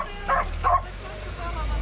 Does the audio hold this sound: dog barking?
yes